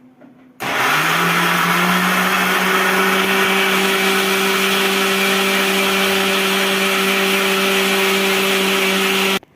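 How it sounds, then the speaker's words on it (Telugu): A kitchen mixer grinder blends watermelon rind with water. It switches on abruptly, holds a loud, steady whirring hum with a sustained motor whine for about nine seconds, then stops. "కొన్ని వాటర్ అయితే వేసి మెత్తగా మిక్సీ పట్టుకోవాలి"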